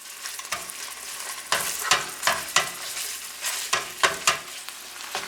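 Spicy Italian sausage and ground meat browning in a pan, a steady sizzle broken by repeated scraping stirs of a spoon, close and fairly loud with no talking.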